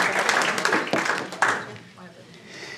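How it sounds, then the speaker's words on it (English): A brief round of applause during a home cleaning product demonstration for Super 10 carpet cleaner, scattered claps mixed under a presenter's ongoing talk, fading after a couple of seconds. "So let's give Super 10 an applause there."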